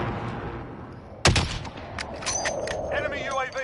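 Sniper rifle fire in a video game: one sharp, loud shot cracks out near the middle, followed by a few quieter in-game impacts and effects, with a voice talking underneath.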